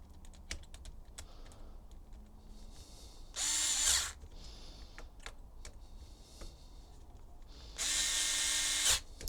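A power drill tightens screws on an HPI Vorza truggy in two short, loud whirring bursts separated by quiet clicks and small handling taps, with no speech.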